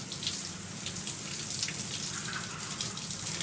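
Steady running tap water splashes into a sink for washing a human hair 3/4 wig extension, a continuous close rush without talking.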